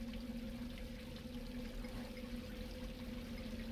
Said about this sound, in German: Das ist das Wasser von oben.